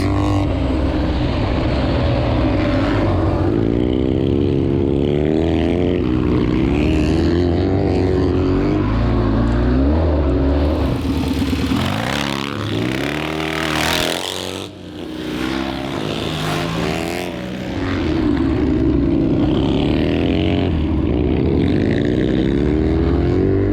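A 1954 Triumph Tiger motorcycle races at Glen Helen Raceway, its engine roaring loud and continuous with rising and falling revs through gear changes, a brief dip near mid-race, then full throttle again.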